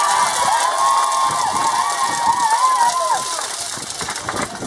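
A crowd cheers and shouts at a Mexican political rally, with noisemakers rattling amid a dense, steady roar and high wavering calls riding over it.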